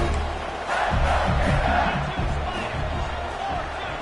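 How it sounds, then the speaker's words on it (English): A football stadium crowd roars steadily in the final minute of a game, a dense, sustained wall of cheering and shouting heard from within the stands. "Crowd really getting into it here in the final minute."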